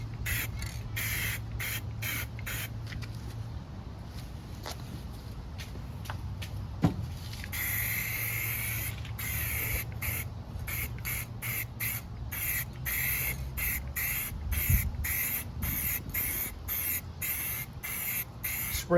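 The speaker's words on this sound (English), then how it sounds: "Spray it until you see it's shiny evenly." Black spray paint hissing from an aerosol can onto the deck of a Craftsman LT1000 lawn tractor with a 42-inch deck, in repeated short bursts and longer sprays, close and fairly quiet outdoors in a slight breeze, without talk.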